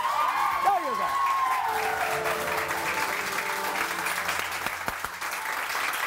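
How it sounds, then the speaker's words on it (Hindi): A studio audience on a Pakistani TV morning show applauds steadily and fairly loudly. A short swooping electronic tone opens the applause, and it carries on without a break to the end. "तालियां उसके लिए"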